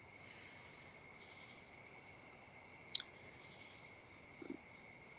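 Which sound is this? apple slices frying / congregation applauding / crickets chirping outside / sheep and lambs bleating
crickets chirping outside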